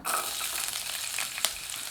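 Close, bright sizzling of garlic cloves frying in two teaspoons of hot oil in a kadai, with a short stirring scrape partway through.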